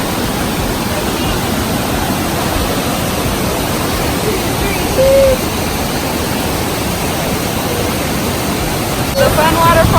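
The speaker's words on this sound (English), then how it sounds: "Cool little waterfall." A small waterfall at Burgess Creek rushes in a constant, close, loud broadband roar that stays even throughout, with a faint brief voice near the end.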